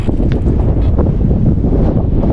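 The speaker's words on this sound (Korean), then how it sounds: "이쪽으로 이쪽으로 바람이 불고 있습니다" Strong wind gusting across the microphone while a bicycle is stopped outdoors on Udo island, Jeju, with grass rustling; a loud, continuous roaring buffet that fills the whole moment with no speech.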